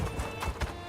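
Horse hooves clip-clop in the video game Elder Scrolls Online, a few quick rhythmic steps heard briefly over busy game ambience.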